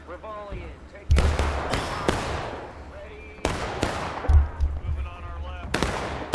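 Musket volleys crack out in the online Civil War game War of Rights, several loud sharp bursts of overlapping gunfire with rolling echoes, while voices talk in between.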